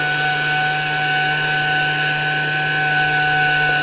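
A pneumatic orbital sander grinds and blends a metal weld, giving a loud, steady whirring hiss with a constant high whine that holds without a break from start to finish.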